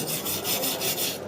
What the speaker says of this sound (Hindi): एक बार उसमें से फ्लक्स पूरा हटाने के बाद एक बार ब्रश मार देते हैं, पूरा साफ़ हो जाता है।